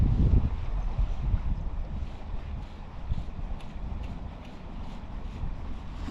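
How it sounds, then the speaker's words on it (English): Wind gusting at an urban creek in Los Angeles, loud continuous rumbling buffeting across the microphone with no voices. "now it's starting to get windy"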